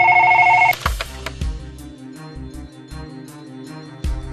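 A telephone rings loudly for under a second with an electronic trill, then cuts off, followed by a few soft clunks and a low background hum.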